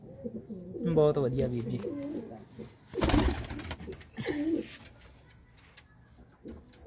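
Pigeons kept in a breeding loft coo nearby in soft, throaty bursts, partly under men's conversation, with a brief flutter or rustle in the middle.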